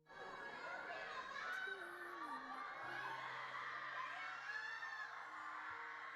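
Fans at an airport shout and scream a celebrity's name, a dense, continuous crowd of high excited voices, whoops and cheers, with some nearby chatter under the din.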